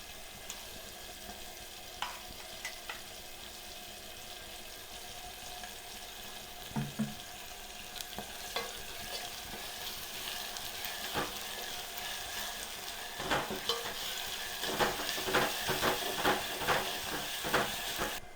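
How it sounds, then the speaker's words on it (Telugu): Tomatoes, green chillies, ginger and shallots fry in hot oil for a mutton curry with drumsticks, giving a steady low sizzle with occasional stirring clatter that grows busier toward the end. "అల్లం చిన్నపాయ కూడా వేగింది"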